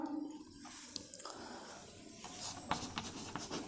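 Chalk or marker writing on a board in a chemistry lecture on the solid state: a few seconds of soft scratching and squeaky strokes in short irregular bursts, with no speech over them.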